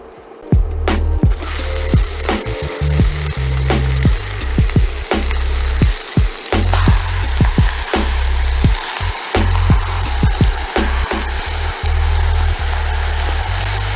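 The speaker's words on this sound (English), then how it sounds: "I've got a pan here heated on over medium heat, and we will start browning the meat." Ground meat browning in a pan over medium heat for a keto lasagna, with a steady close sizzle broken by frequent sharp clatters and scrapes of a utensil against the pan.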